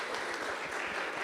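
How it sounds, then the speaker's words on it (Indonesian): Applause for SMK Karsa Mulia at a school radio event, heard as a steady wash of clapping from an audience, moderately loud and continuous throughout the short moment with no voice over it. "Tepuk tangan untuk SMK Karsa Mulia."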